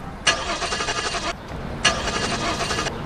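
A car engine cranks without catching, two long grinding starter bursts about a second each separated by a short pause, close and fairly loud with no talk.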